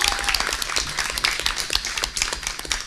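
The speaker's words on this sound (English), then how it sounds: "let's give Captain Graham another round of applause and say thank you" An audience at a leadership council meeting gives a brisk, continuous round of applause, the individual claps close and distinct.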